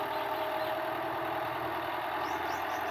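A large tractor engine runs steadily in an open field during fodder maize sowing, a constant near drone with a slight knocking texture and no talk.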